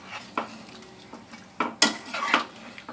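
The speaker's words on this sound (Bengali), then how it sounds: "আবার একটু মিশিয়ে নেবেন।" Dhoniya chicken being stirred and mixed in a pan with a utensil, giving a few sharp scrapes and clinks against the metal over a faint background sizzle.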